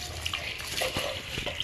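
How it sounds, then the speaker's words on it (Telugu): Water poured from a jug onto a mix of basmati and regular rice with green peas and mint for cooking, a steady, fairly quiet splashing and trickling with no talk. "జగ్గు బియ్యానికి 2 జగ్గులు నీళ్ళు పోసుకోవాలి."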